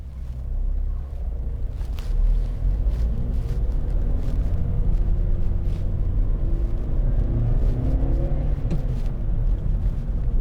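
Steady engine drone and road rumble from a 2011 Vauxhall Corsa 1.2 16v hatchback being driven, with a brief dip in the noise where a gear change falls, all heard from inside the cabin without talk.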